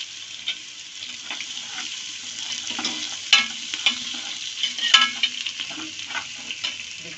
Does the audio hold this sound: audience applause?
no